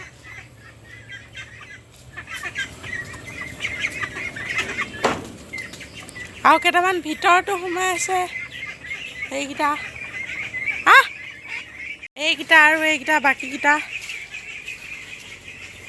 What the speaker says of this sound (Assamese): এইকেইটা চাওক, হাঁহ পোৱালি আমাৰ ডাঙৰ হৈছে